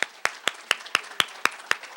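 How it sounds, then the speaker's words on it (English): Audience at a game event clapping in a slow, even rhythm, about nine sharp claps spaced roughly a quarter second apart, fairly close and clear with no talk over them. "Give yourselves a round of applause."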